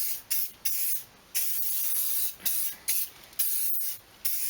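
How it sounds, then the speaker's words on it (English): An aerosol can of Simoniz tyre and trim spray hisses in repeated bursts up close, some longer and some brief, separated by short pauses. "Quite a lot of overspray from it."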